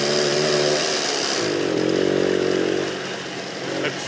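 Vintage scooters with small two-stroke engines running close by, a loud buzzing, raspy drone that rises in pitch as one revs, then eases to a lower, quieter idle.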